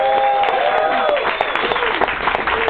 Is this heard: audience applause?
yes